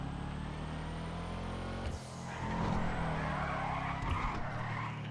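A modified-exhaust car in Grand Theft Auto V drives with a loud steady engine drone, then skids hard with a long tire squeal and revs back up, no talking.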